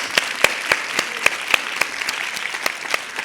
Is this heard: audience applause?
yes